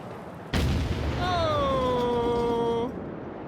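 A weapon cache blows up in a video game with a single sharp, loud blast, followed by a lingering rumble and a sustained, gliding, voice-like tone.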